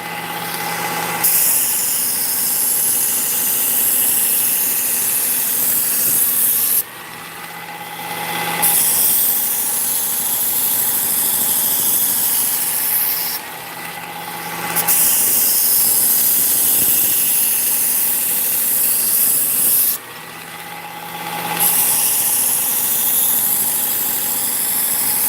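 A powered knife sharpening machine runs in long steady stretches with a hum and high whine, briefly dipping or stopping three times at regular intervals.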